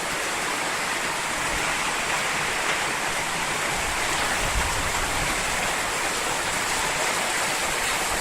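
Torrential downpour and rushing flood water in Georgetown, Guyana, heard as a loud, unbroken hiss of heavy rain and flowing water that fills the whole scene without a pause.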